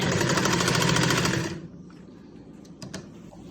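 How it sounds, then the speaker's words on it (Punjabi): A sewing machine stitches the back seam of a salwar leg hem, running in a fast, steady whir for about a second and a half, then stopping and leaving a quiet room with a few small clicks. "ਹੁਣ ਆਪਾਂ ਤੁਹਾਨੂੰ ਸਲਾਈ ਲਾ ਕੇ ਦਿਖਾਉਣੇ ਆ ਵੀ ਸਲਾਈ ਕਿੱਦਾਂ ਲਾਉਣੀ ਆ"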